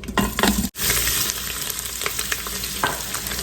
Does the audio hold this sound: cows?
no